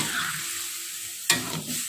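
Tofu and eggplant pieces being stirred and simmered in a pan of white coconut-milk gulai vegetable curry, a soft steady sizzle with one sharp scrape of a utensil near the end.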